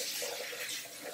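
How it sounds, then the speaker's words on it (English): Tap water runs steadily over hands being rinsed at a sink, a soft continuous splashing hiss at low volume with no talking. "Now I will rinse my hands."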